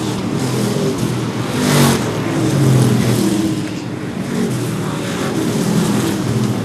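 Street stock race cars roar around the oval at Seekonk Speedway, engines swelling and fading as the pack passes, with rising and falling revs heard from the stands at a steady loud level.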